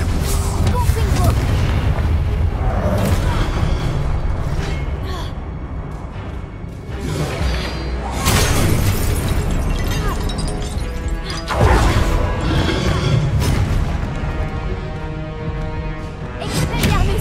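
Spell blasts from Confringo in the Hogwarts Legacy video game, several loud booming explosions among statues, mixed with dense game music and effects throughout.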